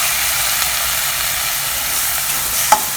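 Water poured into a hot pan of frying onions and tomato for a South Indian raw banana fry raises a loud, steady sizzling hiss, with a brief stir near the end.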